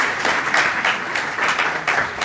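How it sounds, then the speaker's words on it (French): Studio audience applauds a guest joining a French televised debate, a steady wash of clapping from many hands throughout with no talk over it. "Vous pouvez l'applaudir."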